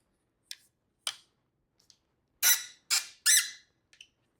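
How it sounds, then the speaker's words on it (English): Legs of an XXZU 210 cm camera tripod light stand being adjusted give short, sharp squeaks and clicks, a few faint ticks first, then three louder squeals close together, with no talking. "I'm telling you, the squeak is no joke."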